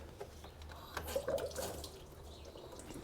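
Coolant draining from a Dodge Chrysler 3.6 radiator after two 10 mm bolts are loosened, a soft steady splashing trickle of liquid with a few louder gurgles, fairly close.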